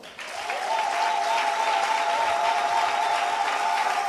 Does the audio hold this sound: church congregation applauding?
yes